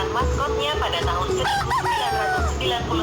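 A rooster crows in a few rising, wavering calls over a steady rhythmic music bed, with a voice talking along underneath.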